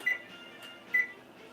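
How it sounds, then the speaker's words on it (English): A kitchen oven timer being set for baking bread, giving two short, clear electronic beeps spaced about a second apart against quiet room tone. "we'll set the timer for 45 minutes and we'll check it"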